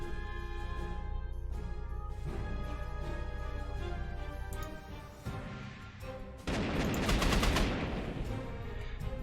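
Dense anti-aircraft gunfire from a Panzer Corps strategy game unit shooting at a fighter plane, heavy continuous booming under music, surging into a louder, harsher burst of rapid fire near the end.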